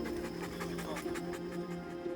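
An anti-poaching dog pants quickly and rhythmically, faint and steady under a constant background hum.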